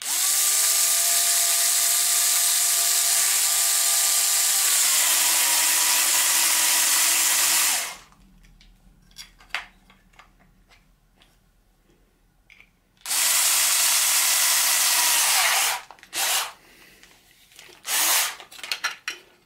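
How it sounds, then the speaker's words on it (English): A cordless electric screwdriver drives screws into the feet of a Primo MPCNC machine, whirring loudly and steadily for several seconds, dropping in pitch as the screw seats, then a second burst after a pause with some handling noises. "So be lazy and use an electrical screwdriver"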